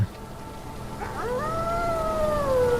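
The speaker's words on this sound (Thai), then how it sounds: "นี่เสียงหมา" A dog howls in the survival game Humanitz, one long wavering cry that rises and slowly falls, heard over a steady rain-like hiss, with no talk.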